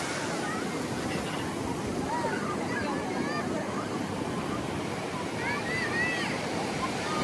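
Ocean surf at Vodarevu beach near Chirala makes a steady broad wash of breaking waves, with a few faint bird chirps above the roar.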